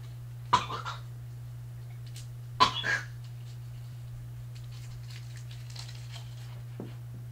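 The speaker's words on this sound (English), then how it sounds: "Wait a minute, I got a cough again." Two short, sharp coughs in a quiet room, a couple of seconds apart, with a steady low hum underneath and a faint rustle near the end.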